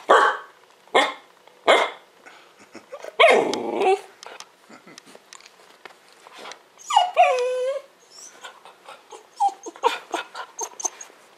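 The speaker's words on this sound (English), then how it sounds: "she's barking at the mirror before" Dog barking at its reflection in a mirror indoors, a series of sharp close barks spaced apart, then a longer whiny yelping whimper, followed by a run of quicker, softer yips and barks.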